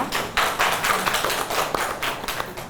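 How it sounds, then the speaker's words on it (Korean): Audience clapping to welcome a speaker at a Korean forum on migrant workers, a sparse, uneven patter of hands with distinct individual claps, moderately close, with no talk. "큰 박수로 모시겠습니다."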